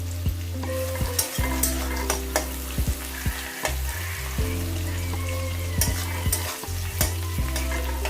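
Chopped onions fry in a pan with an even sizzle, broken by repeated scrapes and knocks of stirring at an irregular rhythm. The cooking is close and moderately loud, with no speech.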